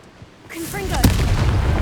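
A fire blast from the Confringo spell in the video game Hogwarts Legacy, a sudden booming burst followed by a rumbling roar. Magical whooshing tones lead into it.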